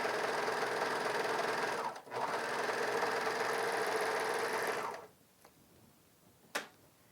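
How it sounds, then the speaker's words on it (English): A Bernina 700D serger stitches elastic onto fabric with a loud, steady, rapid mechanical chatter for about five seconds, then stops, leaving quiet handling and one sharp click. "And look how easy that is to have elastic serged on to your fabric."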